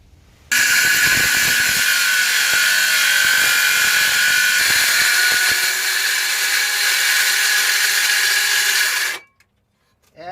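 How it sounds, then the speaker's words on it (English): A battery-powered saw cuts steadily through material for overhead storage in a Ford Transit Connect, a loud, continuous high whine lasting several seconds before it stops abruptly. "Now let's see if I can saw this without wrecking it."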